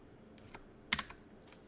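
Computer keyboard keys click in a short, sparse burst, a few soft taps and one sharper double click, faint and alone.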